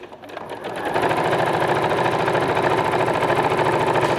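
A sewing machine runs a continuous straight stitch through fabric held firm during a clothing alteration, a loud, even mechanical whir that rises quickly and holds steady for several seconds before stopping.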